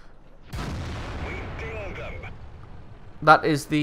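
A British tank's cannon fires a single heavy boom in World of Tanks, a tier 9 gun on a Conqueror, followed by a decaying rumble and then brief speech.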